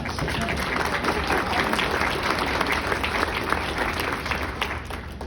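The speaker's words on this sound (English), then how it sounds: "Please, a round of applause." Audience at a Rotary Club scholarship event breaks into sustained applause, a dense, even wash of many hands clapping fairly close and loud throughout, with a few voices mixed in.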